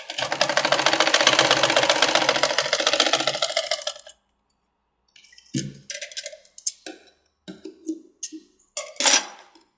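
Sewing machine stitching puff sleeves: a loud, steady four-second run of rapid mechanical stitching, then silence, then a series of short bursts and clicks as the fabric is repositioned and sewn in brief spurts.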